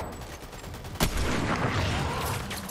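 Shotgun fire in the Fortnite video game: a sharp blast about a second in, followed by dense overlapping gunfire crackle for the rest.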